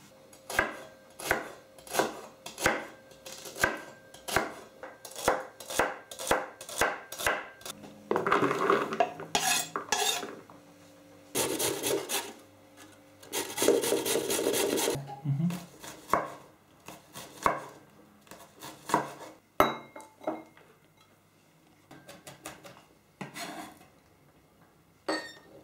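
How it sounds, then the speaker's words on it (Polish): Celery is sliced and garlic and onion chopped on a board, with a stretch of carrot grating in the middle; crisp, rapid knife strikes come in fast runs between the scraping bursts, close and loud, with no talk. "Zaczynam od pokrojenia warzyw, seler w plasterki, marchewkę zetrę na tarce, a czosnek i cebulę posiekam."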